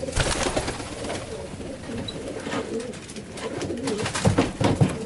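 Fabry and Janssen racing pigeons coo softly in low, throaty murmurs, several birds overlapping steadily through the whole stretch with a fluttery background.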